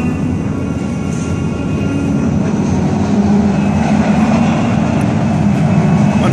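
A Boston MBTA Red Line subway train pulls into a station with a loud, sustained rumble and steady mechanical drone, rising gradually as it nears, with no talking.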